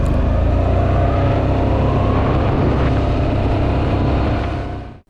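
A Honda DN01 motorcycle pulls away smoothly in drive mode, a steady, loud engine and wind roar held for a few seconds before cutting off abruptly at the end, with no voices.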